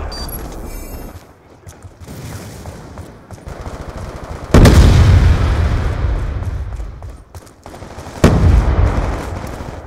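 A grenade explosion and gunfire in a Black Ops 2 Demolition match: quieter combat noise and faint voices, then a sudden heavy blast that rumbles and decays, followed by another sharp, loud bang near the end.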